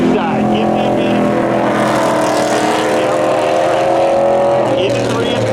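Race cars roar together in a spectator drag race at Seekonk Speedway, a loud sustained engine drone with rising and falling pitch as they pass, while an announcer talks over it.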